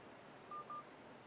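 Two short electronic dialing tones from a phone's voice dialer placing a call to a mobile number, clean and close, with faint background hiss and no talking.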